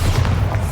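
A brief, heavy booming blast from the Bombarda spell in the Hogwarts Legacy video game, loud and deep, filling the short moment with a dense rumble.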